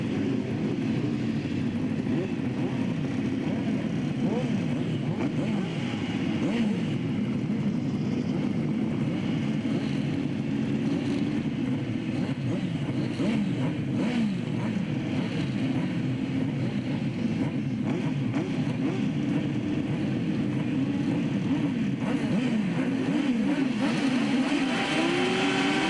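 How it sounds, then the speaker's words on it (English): A pack of right-hand racing sidecar motorcycles roars continuously at a 1999 British grasstrack meeting, engines revving hard in a dense, sustained wall of sound, heard from trackside at moderate distance. "Race 40, the right-hand sidecars, and away they go."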